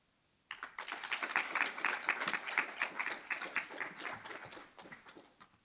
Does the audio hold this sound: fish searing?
no